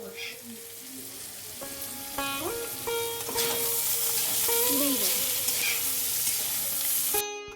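Cooked rice frying with potato, carrot, beans, onion, capsicum and Maggi masala, giving a steady close sizzle that grows fuller as it is stirred, with a few squeaky tonal scrapes from the utensil along the way.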